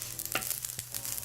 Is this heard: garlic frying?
yes